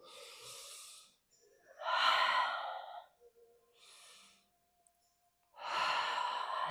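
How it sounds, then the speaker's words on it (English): Deep breathing during a power-flow yoga session: a few slow, audible inhales and exhales through the nose and mouth, close and airy, separated by brief pauses, with no talking. "Nice big breathing."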